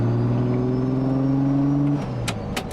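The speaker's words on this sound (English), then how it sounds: "I'm just tickling the throttle at this stage and the car just wants to go." A turbocharged VR6 swapped into a 1990 Mk2 Golf GTI revs under light throttle, a loud close engine drone that holds and climbs, then drops off near the end with a few sharp mechanical clicks.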